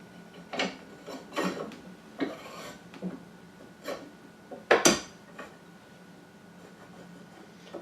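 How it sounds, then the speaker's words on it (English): Metal axle sliding and clinking into the frame notches of a chipper shredder during assembly: a series of light, scattered metallic clicks and scrapes at close range, with one sharper clatter near the end and no talking. "I'm just going to simply take the axle, insert it into the insertion"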